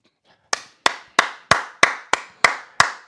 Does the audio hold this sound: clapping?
yes